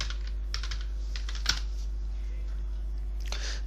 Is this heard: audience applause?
no